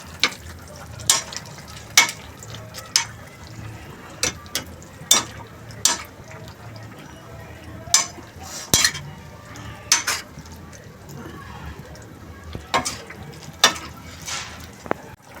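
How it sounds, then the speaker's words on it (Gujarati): Undhiyu, a Kathiyawadi vegetable mixture, being stirred gently in a pan, with repeated spoon clinks and scrapes against the metal over a soft sizzle, irregular strokes spread across the whole stretch. "બધું જ બરાબર મિક્સ કરવાનું છે હળવા હાથે."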